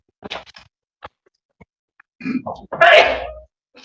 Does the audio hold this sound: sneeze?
yes